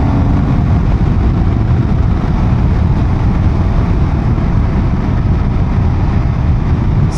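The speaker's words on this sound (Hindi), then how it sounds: "जब रोड ऐसी हो तो थोड़ा बाइक भगाना तो बनता है यार" A motorbike ridden fast on a mountain road gives a loud, continuous roar of engine rumble mixed with buffeting wind, steady throughout and with no voices.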